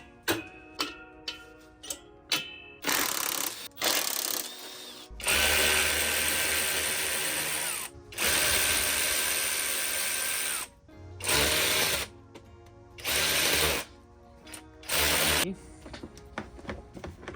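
Power tools whir in repeated bursts of varying length while removing the exhaust from a 2006 Polaris Scrambler 500 ATV, with short ticking clicks and pauses between runs, close and loud, a voice speaking in places.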